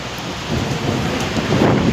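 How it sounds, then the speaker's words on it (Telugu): Heavy rain pours in a thunderstorm in Saudi Arabia, with a deep rumbling roar of thunder beneath, steady and loud throughout, with gusts of wind. "ఆ ఉరుములు చూడండి, ఆ మెరుపులు చూడండి, ఇక్కడ చెట్లు చూడండి, ఆ గాలి చూడండి"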